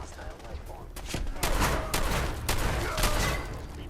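Shotgun blasts in Fallout 4 boom repeatedly over a dense layer of combat noise, several loud broadband shots spaced irregularly through the stretch with faint talk mixed in.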